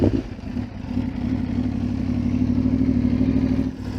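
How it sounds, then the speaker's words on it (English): A naked sport motorcycle with a full Akrapovic exhaust catches with a loud burst, then settles into a close, steady, throbbing idle for several seconds, with no talk over it. "let's fire her up and see what that beautiful AK, full AK exhaust sounds like"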